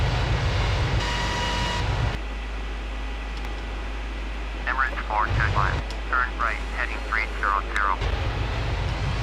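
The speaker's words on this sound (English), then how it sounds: "there's still sound from the engine for some reason, as if we could still hear the engines" Steady jet engine roar of a Boeing 777 in the FSX flight simulator during a crash descent, a broad droning hiss that swells and dips, with someone talking over it in the middle stretch.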